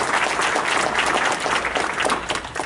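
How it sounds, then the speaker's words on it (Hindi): Audience applause welcoming a singer at an Urdu classical music gathering, dense steady clapping from a crowd throughout, fairly loud and close with no talk over it. "तालियों के साथ इस्तकबाल कीजिए नितिन शाह।"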